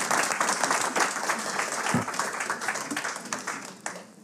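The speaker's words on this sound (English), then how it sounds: "I would really like to ask everyone to give a round of applause to her" Audience applause at a Nowruz community event, a sustained and fairly faint wash of clapping from a roomful of people that fades slightly toward the end.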